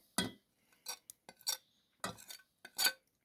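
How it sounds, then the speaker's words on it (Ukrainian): A light spoon clinks against a bowl while stirring butter into a cooled milk and egg custard for a homemade Kyiv cake, about six short scraping taps spread unevenly across a few seconds, close and fairly quiet, with no talking. "Дуже легесенькою ложечкою поєднуємо масло"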